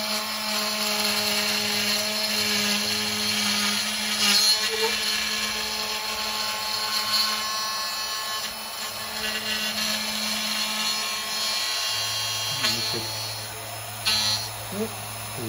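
A vintage AV6 machine runs with a steady high whine and drone, holding its pitch and then stepping up as it speeds up, while someone talks quietly nearby.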